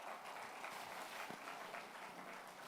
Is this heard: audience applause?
yes